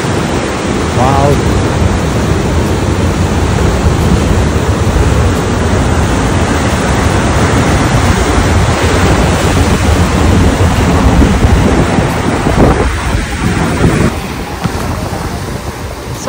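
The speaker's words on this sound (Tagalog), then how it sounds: "So, yan ang dagat ngayon." Loud, continuous roar of ocean surf crashing on the Australian coast during Cyclone Alfred, mixed with heavy wind buffeting the microphone, fading slightly toward the end.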